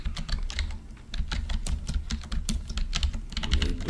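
Rapid, irregular clicking of keys on a computer keyboard, typed steadily and up close for the whole stretch, with no one talking.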